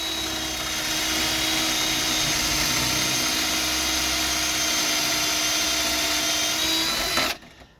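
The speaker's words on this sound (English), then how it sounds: "use a drill to drill the holes from this angle here" A power drill boring pocket holes at an angle whines steadily at high speed for about seven seconds, loud and close, then cuts off abruptly.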